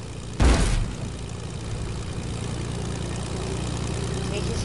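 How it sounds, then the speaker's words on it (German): Airplane engine in the video game Fortnite, a steady, moderately loud droning hum that runs throughout, briefly overlapped near the start by a short, heavy burst of noise. "das Flugzeug ist ja so ungenau"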